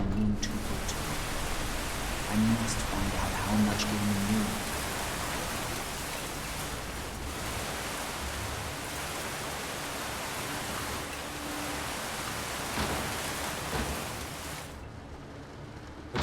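Steady rain pours in the horror video game The Beast Inside, a broad continuous hiss lasting throughout with a few low thumps and a brief spoken line partway through.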